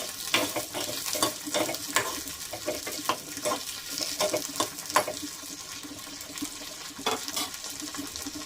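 Vegetables simmering and sizzling in a covered pan, with cumin and garlic going in. Steady close frying hiss runs throughout, broken by repeated sharp stirring scrapes and clinks, with no talking.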